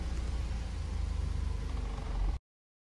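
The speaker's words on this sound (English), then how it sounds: "It's idle hunting." A van engine idles with a steady low rumble that slightly rises and falls as it hunts, caused by a failing fuel pump, running close and alone for about two seconds before cutting off.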